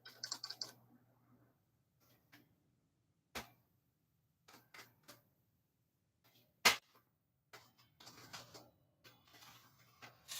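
Sparse clicks from a computer keyboard being typed on, irregular taps and short bursts with long pauses between them, fairly quiet in a still room.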